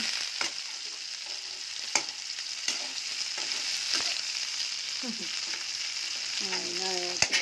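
Potato, onion and chilli fry together in a pan, a steady sizzle punctuated by several sharp stirring knocks, with a brief tonal voice-like sound near the end.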